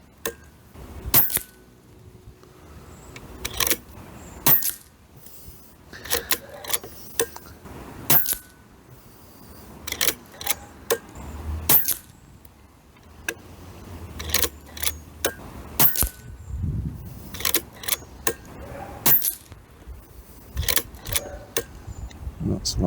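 Air rifle firing .177 Precision pellets, a long series of sharp, sudden cracks spaced irregularly a few seconds apart, with quieter clicks and handling noises between shots.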